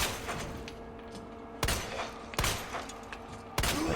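Gunshots fired at enemies in Resident Evil 2 (2019), three or four sharp loud reports spaced about a second apart over a low ambient game hum, with no voices.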